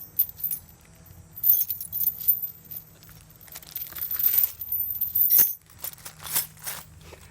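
Metal chain rattles and clinks in bursts while a taped-up love seat is unpacked, with sharp jangles near the middle and a low hum beneath.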